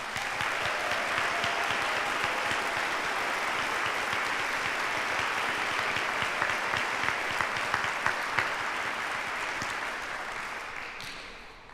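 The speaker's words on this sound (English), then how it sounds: "I would like to ask you to give a round of applause to them as well" Sustained audience applause at a university nursing hooding ceremony, a dense crowd of clapping that holds steady for about ten seconds, then thins and fades out.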